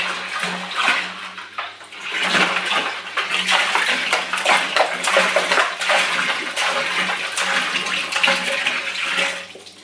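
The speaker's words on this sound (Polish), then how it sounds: "podlewamy garnek wodą. Czyli wlewamy 30 litrów" Water gushes steadily into a large metal brewing pot, a loud continuous pouring rush with faint clanks, going on without pause as about 30 litres fill it.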